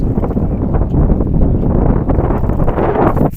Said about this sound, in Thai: ต้องขออภัยด้วยครับ ลมแรงมากครับ